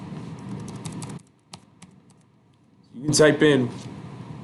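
Light keyboard clicks on a computer keyboard as fractions are entered into an online graphing calculator. The clicks are brief and sparse, falling in a quiet gap between stretches of a person talking.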